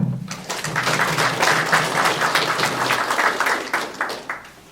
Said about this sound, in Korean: 김부겸 상임 공동선대위원께 큰 박수 부탁드립니다